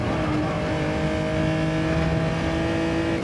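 A car in Gran Turismo 7 at the Nürburgring, engine held at full throttle with a steady, loud, droning roar as it accelerates.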